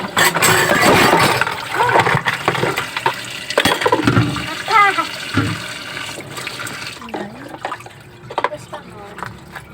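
Dishes being washed under running water, with splashing, clattering of plates and utensils and a loud intermittent water flow. A voice talks at times over the noise.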